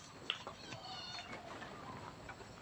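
A cat meows a few times close by, short drawn-out cries with some soft background noise.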